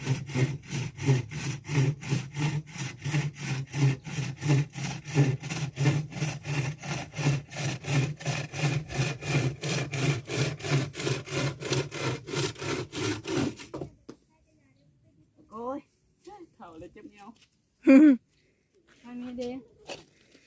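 Wood is sawn by hand with a quick, even run of back-and-forth rasping strokes, close and loud, for about fourteen seconds before it stops and a few voices speak briefly.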